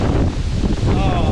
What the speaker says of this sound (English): Never been here when it's been this gusty, this windy.